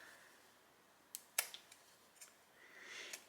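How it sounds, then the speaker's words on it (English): Pinking shears trim a fabric seam allowance close to the stitching, a few quiet crisp snips with one sharper cut, faint in a quiet room. "So I'm going to use my pinking shears."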